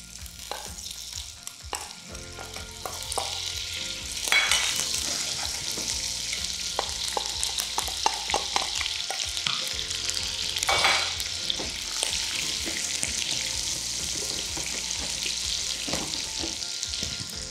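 Butter sizzles as it hits light-brown caramelized sugar for caramelized crepes, stirred steadily, with scraping and bubbling crackle throughout and a few louder bursts along the way.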